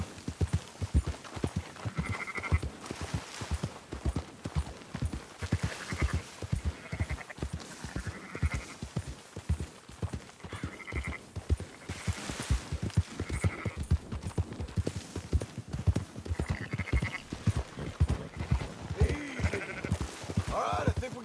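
A flock of sheep bleats amid steady horse hoof clip-clop as riders herd them in the video game Red Dead Redemption 2, with continuous rhythmic hooves and intermittent bleats throughout.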